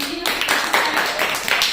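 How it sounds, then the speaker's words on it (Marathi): An audience claps for a student group's correct answer at a school quiz contest, a short burst of close applause while a voice speaks over it. "टाळ्या वाजवा जोरात"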